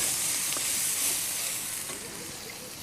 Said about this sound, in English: Once they've crackled, we'll add some chopped onion. Again, these lovely red Indian onions, which are so good. And we'll fry that.